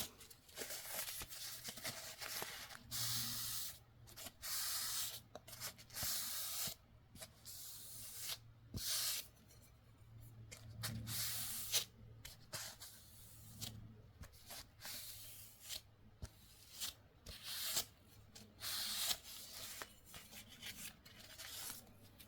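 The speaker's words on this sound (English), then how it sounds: "let's wipe the excess oil or grease from the blade" A factory-new BPS HK5 CSH bushcraft knife blade being wiped clean of excess oil or grease, heard as repeated close, soft rubbing strokes in short bursts with no talking.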